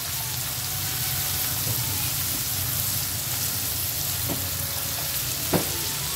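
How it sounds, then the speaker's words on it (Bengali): Onions soften in hot oil with a loud, dense, rain-like sizzle that holds steady throughout, broken only by a couple of faint utensil taps near the end. "সামান্য একটু নরম করে নেবো আমরা পেঁয়াজটাকে"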